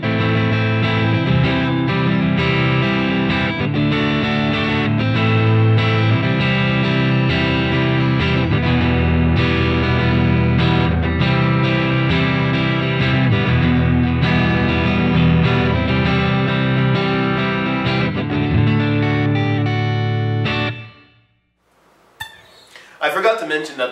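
Distorted Fender Modern Player Telecaster Plus electric guitar strums a chord progression through an amplifier with a touch of reverb, loud and continuous, then cuts out into brief handling noise.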